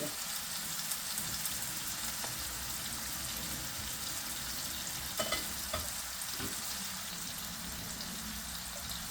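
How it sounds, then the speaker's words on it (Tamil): Onions sizzle and fry in a pan as rice is tipped in and stirred for fish biryani, a steady close crackling hiss with a few brief scraping knocks partway through. "ஒனியன் பொரியிற அந்த கேப்பில் நாங்கள் அங்கே ரைஸ் போடுறோம்."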